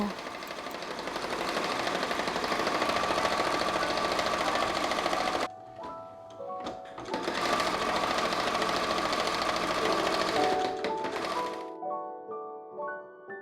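A sewing machine stitching the side seams of a patchwork bag made from fabric scraps: close, steady rapid whirring in two long runs separated by a pause with a few thunks, then slower, lighter stitching at the end.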